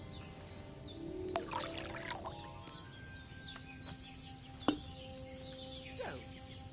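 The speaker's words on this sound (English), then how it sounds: "what did you pour in there? Wine, of course." Wine trickles and splashes into a cauldron in Kingdom Come: Deliverance II, a soft, uneven pour with a few louder splashes, while birds chirp and call in the background.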